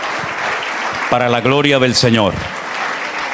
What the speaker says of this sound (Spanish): le demos un fuerte aplauso de bienvenida a nuestros hermanos en esta noche